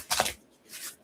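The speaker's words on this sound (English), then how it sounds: "All right, 2 more shuffles." Oracle cards are shuffled by hand in two short riffling bursts, a sharp papery flutter near the start and a softer one just before the end, close up with no talk.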